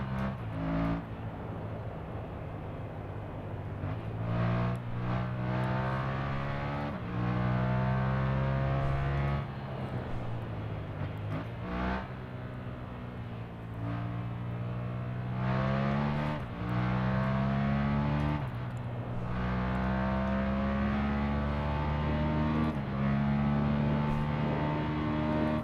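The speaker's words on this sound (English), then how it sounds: "this motorcycle riding in the simulator is so much easier than the cars" A motorcycle ridden in the Assetto Corsa racing simulator, its engine droning steadily with repeated rising revs as it shifts up, dipping briefly between gears, loud and continuous throughout.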